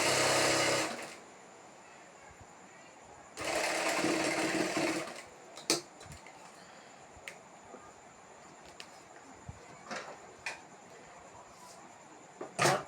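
A sewing machine stitches the waistband of patiala pants in two loud broadband bursts near the start, then the room falls quiet apart from scattered clicks and small handling knocks.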